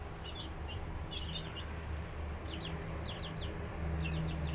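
Abyssinian and green-egg chickens on a balcony give short clucks and chirpy calls in scattered bursts over a steady low hum and background noise, fairly close, with no talk.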